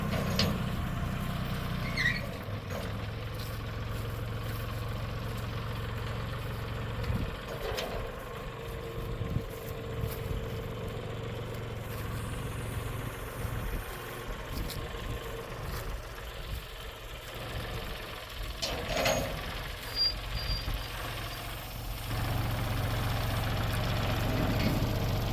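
A tractor engine idles steadily throughout, rumbling low at a constant level with small variations, fairly close and uninterrupted by talk.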